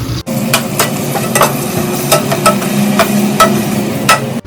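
Onions sizzle as they fry in a hot pan while a utensil scrapes and stirs in repeated strokes, close and fairly loud.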